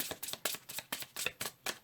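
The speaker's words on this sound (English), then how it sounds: "One last shuffle." Tarot cards being shuffled by hand, eight or so crisp quick riffling bursts in an even rhythm, close and fairly quiet with no talking.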